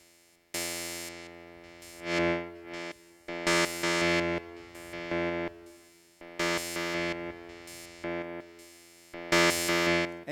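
A Sequential Pro 3 synthesizer plays with distortion, giving loud, buzzy, harmonically rich sustained notes in choppy repeated phrases that start and stop abruptly, with no voices.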